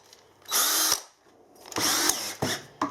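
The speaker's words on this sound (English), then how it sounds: "I've needed a new cordless drill for a while." A cordless drill whirs in three short bursts, close and loud, with brief pauses between runs.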